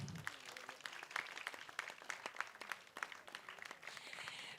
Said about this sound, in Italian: quindi fatevi un bel applauso